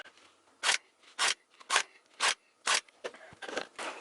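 Scissors snip upholstery fabric while an office chair is recovered: about seven crisp, close cuts in a steady rhythm, each a short rasping crunch, with no talking.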